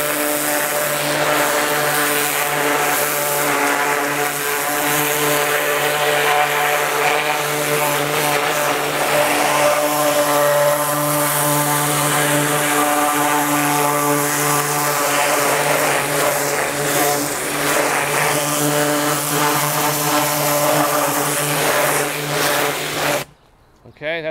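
A pressure washer rated at 2000 PSI and 2.6 gallons per minute, fitted with a turbo nozzle, blasts car wheels clean. Its loud, steady motor drone runs unbroken for over twenty seconds before cutting off abruptly.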